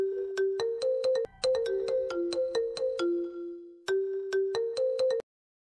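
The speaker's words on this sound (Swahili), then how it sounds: "nakushauri upokee hiyo simu" A phone ringtone plays a bright, repeating melodic tune in several bursts with short pauses between phrases, loud and close, with no talking.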